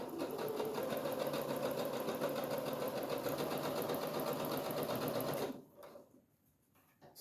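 Sewing machine stitching a notebook pencil pouch, a steady close rapid whir with a continuous rhythmic needle chatter that runs for about five seconds before stopping abruptly into quiet.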